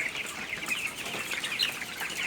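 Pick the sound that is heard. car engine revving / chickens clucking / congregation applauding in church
chickens clucking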